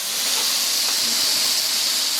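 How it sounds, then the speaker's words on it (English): Steam jets steadily from the vent of a pressure canner processing raw-packed chicken in a basement: a loud, continuous, even hiss that holds without a break from start to finish, with no talking. "we are starting to see the steam come out of the vent there"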